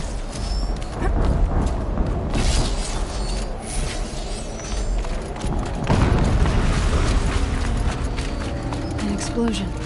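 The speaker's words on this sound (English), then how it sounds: "An explosion." Heavy explosion in the game Slupree Horizon on ultra hard, a broad rumbling blast layered over continuous dense battle noise with a surge around the middle, while a voice speaks.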